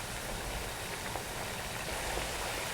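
Peanuts frying in hot oil with crushed garlic and lime leaves give a dense, steady crackling sizzle like light rain, continuous and even throughout with no voices.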